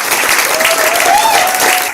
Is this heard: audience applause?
yes